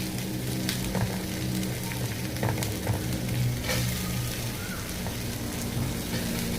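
Carrot and capsicum sauté in hot oil with onion, making a steady close sizzle and crackle with occasional light clicks of stirring throughout.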